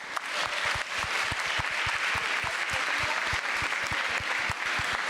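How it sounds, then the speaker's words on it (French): Audience at a UNESCO campus event on water resources applauds Daphné: a steady, dense wash of clapping with many distinct sharp hand claps, sustained and fairly close for about five seconds, no talk over it. "je vous demande d'applaudir très fort Daphné."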